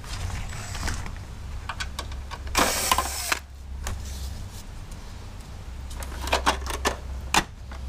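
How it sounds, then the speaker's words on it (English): Cables being cut out of a van air conditioner unit on a Mercedes Sprinter, giving a few sharp snips and clicks with a longer scraping burst near the middle, close up over a low steady hum. "You can just start cutting these cables here out of the way."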